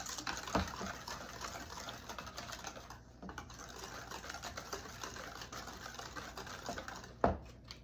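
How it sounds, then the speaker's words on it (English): Duncan Hines golden fudge cake batter whisked by hand in a bowl, a quiet, fast, steady ticking of whisk wires against the bowl that runs for several seconds with a couple of sharper knocks. "Just gonna whisk this for a couple minutes"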